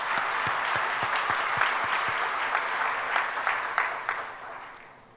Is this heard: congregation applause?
yes